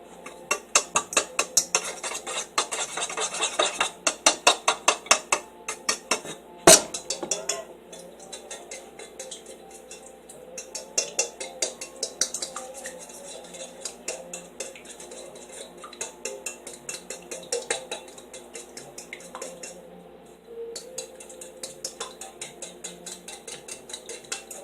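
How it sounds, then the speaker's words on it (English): A fork clinks and scrapes steadily against a bowl while French toast batter is mixed, a busy run of quick metallic ticks with one sharper knock, close and fairly quiet, with no talking. "You need to get a fork. Then you mix it."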